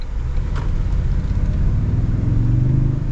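A Toyota Tundra with the i-Force Max V6 gives off a steady, deep engine rumble, loud and close, with a faint rise in pitch toward the end and no voices.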